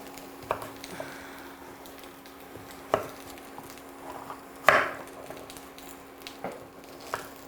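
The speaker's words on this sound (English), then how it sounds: "let's cut up the rest of this squash" A knife cutting a butternut squash into pieces on a board, several separate sharp chops and cracks spread out with quiet gaps between them, close by.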